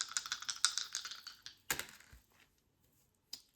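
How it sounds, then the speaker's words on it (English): Dice rolled during a tarot-style reading: a quick burst of small hard clattering rattles over about two seconds, then a couple of isolated clicks as they settle, close and fairly quiet. "let me roll the dice for you to see what I'm getting."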